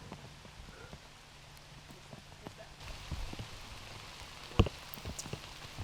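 Steady rain falling on a disc golf course during a professional tournament round, a soft continuous patter with scattered drops and one sharper close tap, with faint talk in the background.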